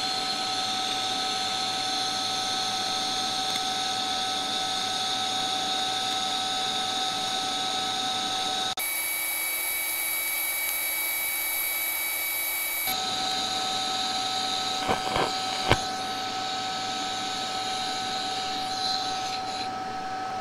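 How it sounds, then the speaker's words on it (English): TIG welding with a stubby gas lens torch and scratch start: a steady, loud electrical hum and hiss with a constant tonal whine, which shifts in pitch partway through, followed by a few sharp ticks. "So I'm going to keep laying on some more welds and playing around with it."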